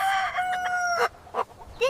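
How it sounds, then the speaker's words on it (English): A rooster crows up close, loud and drawn out, then breaks into a few shorter clucking calls. "This is a rooster."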